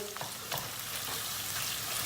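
Minced meat, 200 grams, sizzling and frying with onions in a pan, a steady close crackle with occasional stirring scrapes and no talking.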